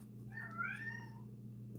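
A single drawn-out meow from a house cat, close and clear, rising then falling, over a steady low electrical hum.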